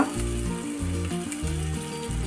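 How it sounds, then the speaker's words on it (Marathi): Cumin and mustard seeds sizzle in hot oil while an aloo paratha filling is prepared, a steady crackling hiss heard under loud rhythmic background music throughout. "इथे आपलं तेल गरम झालेलं आहे याच्यामध्ये टाकूया अर्धा चमचा जिरे मोहरी"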